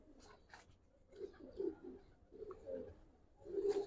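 Giribaz pigeons coo in soft, low repeated bursts close by, a few throaty calls spaced over a few seconds with faint rustling between them.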